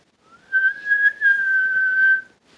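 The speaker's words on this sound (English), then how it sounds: "they seemed to hear an enormous ear-splitting whistle" A loud, sustained whistle holds one piercing high pitch for nearly two seconds, with a brief break partway through.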